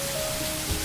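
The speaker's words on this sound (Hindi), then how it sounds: "रास्ते में ही अचानक बारिश शुरू हो गई।" Steady broadband hiss of rain beginning to fall in an animated Hindi story, a soft even wash of drops on a surface that holds constant through the short moment with no voices.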